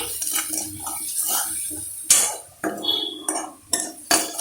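A spoon stirs turmeric and chili powder in a metal pan for idli upma, with several sharp clanks and scrapes separated by quieter gaps, heard up close.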